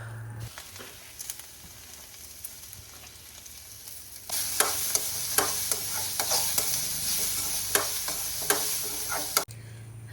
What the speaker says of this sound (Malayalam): അപ്പോൾ ഒരു ബ്രൗൺ കളർ ആകുന്നത് വരെ വറുത്തെടുക്കണം കേട്ടോ